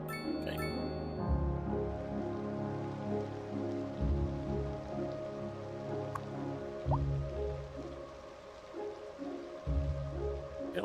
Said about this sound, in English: A good rain, but whatever.